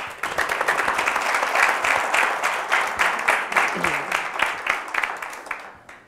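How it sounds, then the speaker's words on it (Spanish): An audience at a sign-language presentation bursts into a sustained round of clapping, many hands close and lively, holding for several seconds before fading away at the end. "Así que un aplauso para ella"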